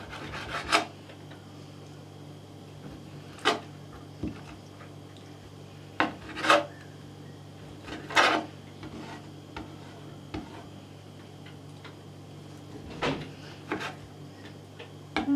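A knife trims fat from raw chicken livers in a quiet kitchen. Faint, scattered scrapes and taps land every second or two against a low steady hum, with no one speaking.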